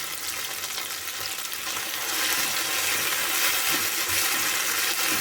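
Curry leaves and ivy gourd pieces frying in a pan, a dense, continuous sizzle that grows louder partway through, close up with no voices.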